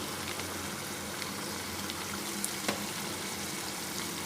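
Green onion and capsicum frying in a pan on low flame give a steady, soft sizzle throughout, with a couple of faint stirring clinks near the end.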